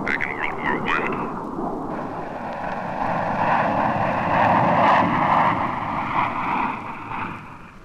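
Steady roar of T-38 jet engines from inside the cockpit during flight, a broad continuous rumble with wind noise that swells slightly toward the middle.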